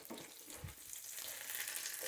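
Onion paste frying in a little oil, giving a faint, continuous hissing sizzle with a slight bump of stirring, quiet and steady throughout.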